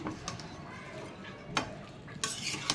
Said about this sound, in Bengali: আমি ভালো করে তরকারিটা মশলার সাথে কষাইয়া তারপরে ঝোল দিয়ে দিব